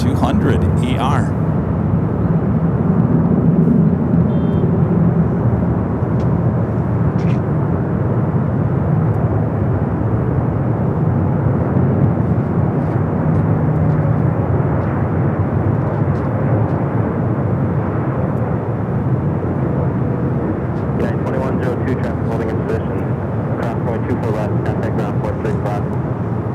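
A KLM Boeing 777-200ER in Asia livery taxis at LAX, its engines giving a steady, loud low rumble that runs the whole time, with a few sharp crackles near the end.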